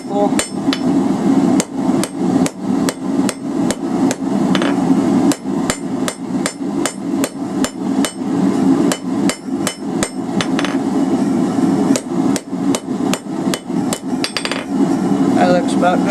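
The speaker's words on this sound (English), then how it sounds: "Half on, half off blows off to the far edge of the anvil." Hammer blows land on hot steel at the anvil while a coal fire rake is forged, a fast steady series of sharp ringing strikes with brief pauses, loud and close.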